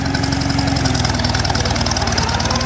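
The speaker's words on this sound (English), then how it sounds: "I just got to stop and wing the throttle up." A vintage tractor engine fitted with a Chevy alternator runs with the throttle raised. The rumble is loud and close, a continuous throbbing with a rapid, even pulse.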